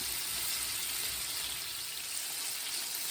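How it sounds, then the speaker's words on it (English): Pork ribs deep frying in hot oil give off a steady, even sizzle that holds at a constant level for the whole stretch, with no voices over it. "Let that fry another about 6 to 7 minutes"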